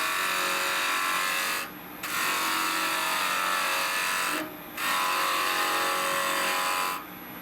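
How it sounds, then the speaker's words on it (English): A bowl gouge cuts a tenon on a piece spinning on a wood lathe, producing a steady high cutting whine in three long passes separated by short pauses. "I'm going to cut the tenon using the bolt gouge"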